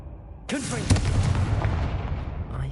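A Confringo fire spell from Hogwarts Legacy bursts with a sudden loud boom, then rumbles and crackles for about two seconds, close and full-bodied.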